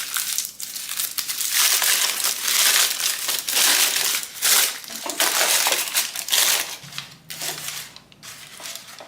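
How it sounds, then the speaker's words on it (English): Parchment paper crumpled by hand to line a bread pan, loud crackling and crinkling in repeated bursts close up, with brief pauses between squeezes. "Do a little crumple."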